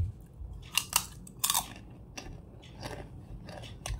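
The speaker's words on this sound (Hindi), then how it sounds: "लेकिन वो क्ले कैसे खाती है मैं बताती हूँ।" Someone chews and bites through a piece of clay or slate, giving quiet, crisp crunches in uneven bursts against a soft background.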